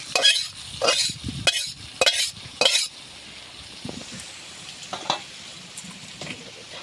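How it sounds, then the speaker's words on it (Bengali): Fish head and tail from hilsa dropped into hot oil in a wok, giving a few loud sizzling bursts over the first three seconds that settle into a quieter steady frying hiss. "মাছের তেল দিই, মাছের মাথা, লেজ, এইগুলো দিই কচুর শাকের ঝাল করবো"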